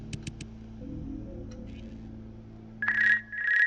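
A telephone in a video game rings with a couple of short electronic trills at the start, then quieter tones and a louder warbling ring near the end, heard alone without talk.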